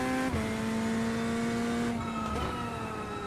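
A GT3 race car engine in the iRacing video game drones steadily at high revs, with a couple of quick shifts in pitch, loud and continuous throughout.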